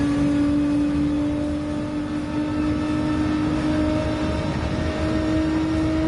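A Corvette with a flat-plane crank V8 in the video game Gran Turismo 7 holds a steady, loud, buzzing engine drone with a strong constant tone and little change in pitch.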